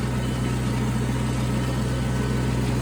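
A John Deere compact 750 tractor bush hogging thick weeds, its engine droning loud and steady with the mower labouring and starting to jam, a constant close roar with no break.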